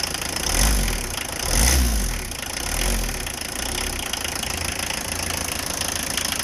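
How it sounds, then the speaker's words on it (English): An old diesel car engine, driven daily for over 40 years, idles smoothly with a low rumbling throb that swells a few times and then settles, moderately loud and close, with no talking. "Nice running old diesel."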